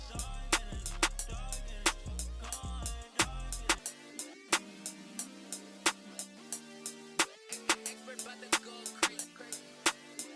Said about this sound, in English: the snare that's used throughout this song